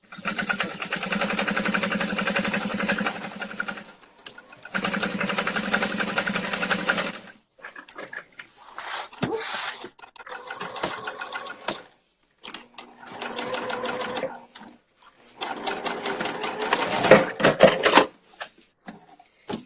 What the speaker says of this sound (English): I'm gonna sew about 1/4 of an inch or whatever gets as close to the teeth without going through the teeth